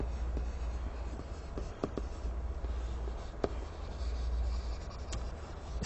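Pen on paper as an essay's thesis statement is written out, a soft continuous scratching with occasional small taps, close and fairly quiet, with no talking.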